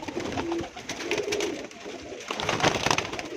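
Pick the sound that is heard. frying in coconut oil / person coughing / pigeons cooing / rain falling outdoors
pigeons cooing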